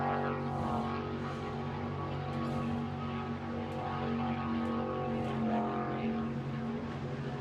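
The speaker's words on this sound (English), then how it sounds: "Just let the people hear the engine noise." Racing powerboats in the Ocean City Grand Prix roar on the water, a continuous loud engine drone with strong steady tones and slight rises and falls, no talk over it.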